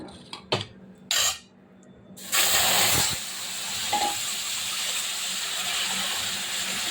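Papaya and potato curry hits a hot pan of oil with browned cumin and bay leaf: a couple of quick clanks, then a sudden loud sizzle that settles into a steady, softer hiss.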